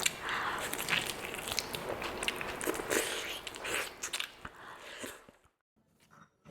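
Close, wet crunching and biting from someone chewing a chicken leg piece of biryani, loud irregular mouthfuls for about five seconds before dropping to near silence.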